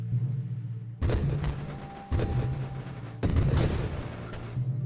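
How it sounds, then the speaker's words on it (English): Cluster explosions from a grenade weapon in the space shooter Nova Drift, with three loud broadband booming bursts about a second apart over a steady low game hum, each blast trailing into a rumbling crackle. "It does hit on contact, but you get these big old cluster explosions"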